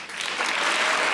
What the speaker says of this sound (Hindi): दाऊद की हंसी जिसको अच्छी लगी वो तालियां बजाए सही से।